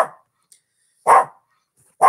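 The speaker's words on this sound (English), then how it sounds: "I hope the dog's not drowning me out here." A dog barks three times, loud and close, with the sharp bursts spaced about a second apart and silence between them.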